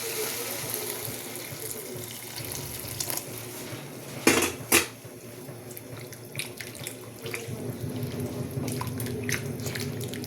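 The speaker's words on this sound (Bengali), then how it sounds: "কিন্তু তার গরম জল দিয়ে দেবো আমি" Water runs in a continuous pour into a soup pot, with a couple of sharp metallic clinks of a pan midway and a steady splashing flow throughout, no talk.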